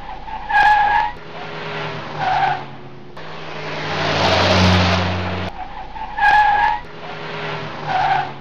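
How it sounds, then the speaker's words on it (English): A 2009 Honda Accord's engine hums steadily while tires squeal and skid in repeated loud surges, swelling and fading as the car moves on the road. "right now I'm just driving the car to see the stability of the car"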